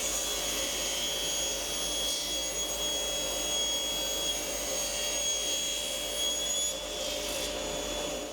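A power tool grinds a strip off a metal plate in a steady, loud, unbroken whine with a faint tonal hum, continuous for the whole stretch and free of speech.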